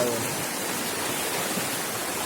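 Strong stream water rushes in a dense, steady broadband roar, loud and close, with no break through the short stretch.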